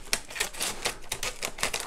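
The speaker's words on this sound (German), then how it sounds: "ich mach das mal mit Schere auf" Scissors snip and slice through a mail-order package, a quick run of sharp, close clicks and cuts in an irregular rhythm with no voice.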